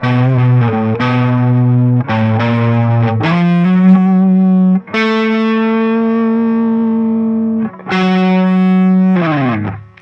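A distorted electric guitar with chorus and echo plays the closing lick of a song, loud close sustained notes with brief re-picked accents and bends sounding alone for ten seconds.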